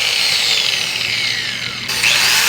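A loud, steady high-pitched whine from an angle grinder with a repaired switch runs continuously, with a brief dip and a jump in pitch near the end.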